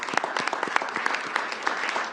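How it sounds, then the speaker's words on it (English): A small crowd at a Washington, DC event with the mayor applauds a young summer-jobs worker: steady, dense clapping at moderate level for about two seconds, with no speech over it. "let's give him a round of applause"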